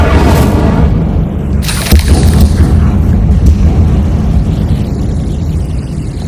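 An Incendio fire spell is cast in the video game Hogwarts Legacy, producing a loud, roaring burst of flame. Deep rumbling booms and a few sharper hits follow, and the roar stays heavy and continuous throughout.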